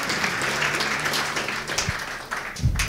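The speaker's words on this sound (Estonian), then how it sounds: "teeme siin kohal meie õpilastele siin sooja aplausi" Warm applause from an audience honouring students at Viljandi vocational training centre, a steady wash of clapping lasting the whole moment at moderate level.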